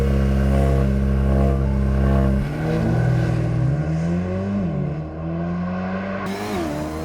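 An Audi S3 and a Mercedes-Benz CLA 35 AMG accelerate hard side by side on a racetrack, a loud sustained engine roar climbing in pitch through the gears, with a gearshift dip partway through.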